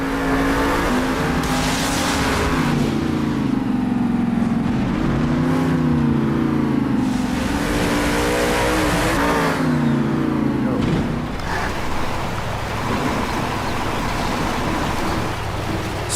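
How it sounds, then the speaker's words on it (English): A monster truck engine roars steadily in an arcade racing video game, rising and falling in pitch through sustained revving, loud and continuous, mixed with music and effects. "hearing that roaring engine sound with all the bombastic action from your couch"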